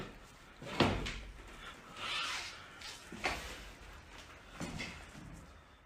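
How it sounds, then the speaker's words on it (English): Doors slam inside a rundown house: three sharp, hollow thuds spaced a couple of seconds apart, fairly faint against a quiet, noisy background. "This clip shows slamming doors,"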